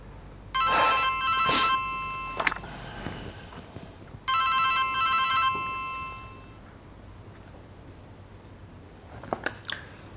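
A telephone rings late at night in a Chinese drama film, with two bursts of bright electronic trilling separated by a quiet pause and faint rustling.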